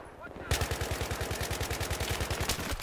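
Rapid automatic gunfire rattles in the video game Battlefield 3, a sustained burst of evenly spaced shots starting abruptly and continuing loud and close to the end.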